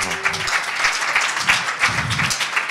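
A crowd applauding steadily, dense continuous clapping at moderate loudness throughout.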